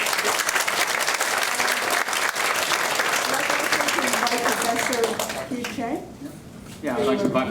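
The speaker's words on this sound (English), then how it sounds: "So I guess maybe we should just give a round of applause." Audience applause after an academic talk on science and religion, dense steady clapping from a crowd filling the hall, then fading as a voice begins speaking near the end.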